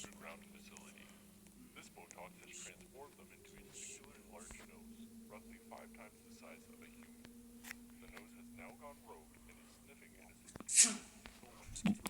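A cartoonish sneeze from a character in the Roblox game, one sharp burst near the end, following a stretch of quiet game sounds and soft whispery noises.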